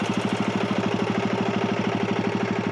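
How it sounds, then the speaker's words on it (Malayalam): A Royal Enfield Himalayan 450 idles close by, its new engine and exhaust giving a steady, loud, rapid pulsing beat with mechanical clatter throughout, no talk. "പുതിയ എഞ്ചിൻ, പുതിയ എക്സോസ്റ്റ് ആൻഡ് പുതിയ എക്സോസ്റ്റ് നോട്ട്."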